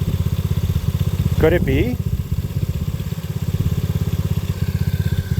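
Engine idling on its true idle circuit with a steady, throbbing low rumble throughout, fairly close and even, while a person speaks briefly over it.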